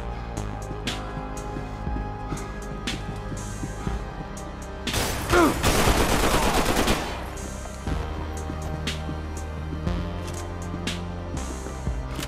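Gunfire in the video game Max Payne 3 crackles as rapid shots over a busy game soundscape, peaking in a loud, dense volley partway through.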